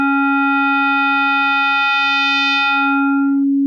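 A steady synthesizer tone with frequency modulation adds a bright stack of evenly spaced harmonics over a strong fundamental, the upper overtones thinning out toward the end as the pitch holds constant, clean and alone.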